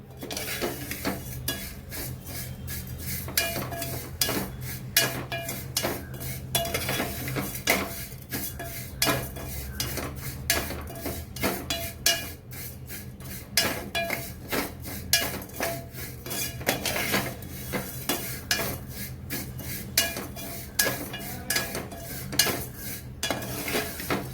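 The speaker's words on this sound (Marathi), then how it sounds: "केवळ तांबूस रंगापर्यंत भाजून घ्यायचे आहेत आपल्याला" Shevale is dry-roasted in a pan and stirred without pause, giving a long stretch of rapid, regular metallic scraping and clinking of a utensil against the pan, close and fairly loud, with no voices.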